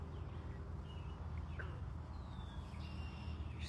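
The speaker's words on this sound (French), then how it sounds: "J'entends les oiseaux autour de moi" Faint, scattered bird chirps outdoors near the shore, a few brief calls over a steady low rumble of distant traffic and light breeze.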